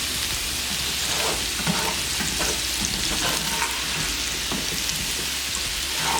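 Breakfast potatoes frying in a pan and being gently turned with a spatula, giving a steady dense sizzle with soft scraping and lifting movements throughout.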